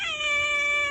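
A female cat lets out a single sustained, close, loud meow, a drawn-out, even-pitched cry heard alone without talk.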